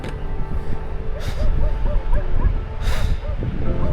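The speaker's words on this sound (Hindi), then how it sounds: "कुत्ते भी भौंक रहे हैं, पता नहीं क्यों, तो हाँ वहाँ पर गाय है इसलिए वो कुत्ते भौंक रहे हैं।" Dogs barking at cows in a cold Himalayan river valley in Spiti, with several short yelping barks repeating across the clip amid steady outdoor background noise.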